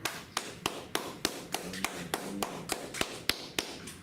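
A few hands clap slowly and unevenly, about a dozen sharp claps spread apart, close and fairly quiet, at a Tuesday brotherhood class of the Israelite School of Universal Practical Knowledge in Houston.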